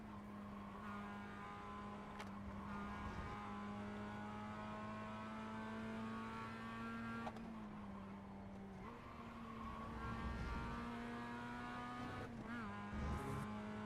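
Race car engine in a video game racing around Watkins Glen, a steady sustained drone with shifting pitch through gear changes and cornering, with someone talking over it.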